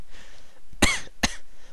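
A voices two short, sharp coughs about half a second apart, close and fairly loud, over a faint background hum during a Grand Theft Auto: San Andreas play session; the coughs sound deliberately imitated rather than genuine.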